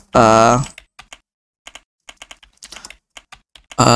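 Typing on a computer keyboard while coding PHP, with scattered close, crisp key clicks and a few quick bursts of keystrokes, sitting between a loud voice at the start and end.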